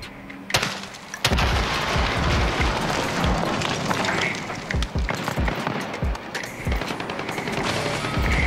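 Gunfire in a shooter video game: rapid, continuous automatic bursts with sharp individual shots, loud and close, layered with distant pops and impacts over about eight seconds.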